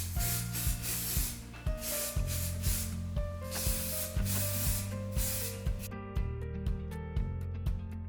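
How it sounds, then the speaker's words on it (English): Hairspray hisses from a can onto a ballet bun in quick, close bursts, several short sprays in a row over soft background music. "we want to go in with some hairspray and make sure there are no wispies"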